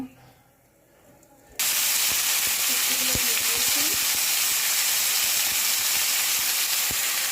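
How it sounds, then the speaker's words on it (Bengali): Vegetables dropped into hot oil for khichuri burst into a loud, continuous hissing sizzle after a quiet start, with scattered crackles and pops carrying on steadily to the end. "তেলটা গরম হয়ে গেছে এখন সবজিগুলো দিয়ে দিব"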